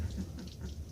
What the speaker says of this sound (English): Rained hard all afternoon.